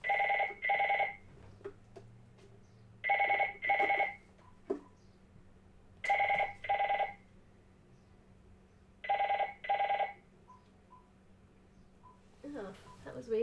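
An indoor telephone rings in four evenly spaced double bursts, clear and fairly close, with quiet room noise and a few small clicks between rings.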